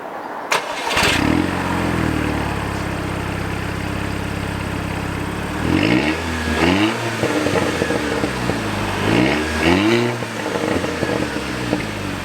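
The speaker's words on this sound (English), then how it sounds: "the exhaust does sound really nice on standard, I think, so I will give you a short start up" An Audi TT Mk2's engine cranks and fires up into a deep burbling idle through its standard exhaust, then is blipped twice with throaty exhaust revs, close and loud.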